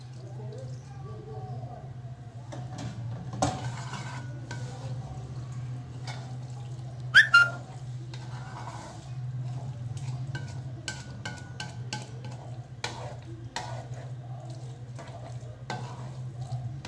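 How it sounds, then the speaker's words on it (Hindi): A spoon stirs milk into cheesy white sauce macaroni in a pan, with a steady low simmer, soft scraping and occasional clinks against the pot, close and moderate throughout. "थोड़ा सा दूध ऐड कर रही हूँ और साथ में चेक करूँगी इसमें चम्मच चला के"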